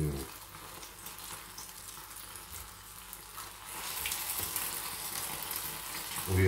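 Potato patties sizzle and crackle steadily in a hot pan over low heat, the hiss growing louder partway through, with a few clinks of handling nearby.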